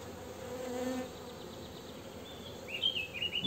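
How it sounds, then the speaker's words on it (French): Honeybees buzz steadily around an artificial swarm set on two hive frames, a dense close hum that swells early, then thins before sharper, louder buzzing returns near the end. "C'est un essaim que j'ai créé sur 2 cadres."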